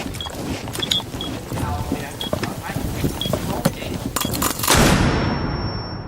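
Gunfire in the video game GTA, a string of sharp shots scattered among game noise, with a louder rumbling burst near the end, under quiet talk.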